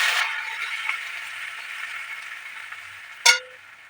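Bay leaf, cumin and ginger sizzling in hot oil in a frying pan, a steady close hiss that fades slightly over several seconds, ending with one sharp clack of a utensil against the pan.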